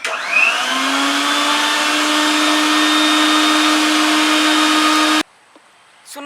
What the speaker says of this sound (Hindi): तोरा मिक्सर के साउंड सुनबे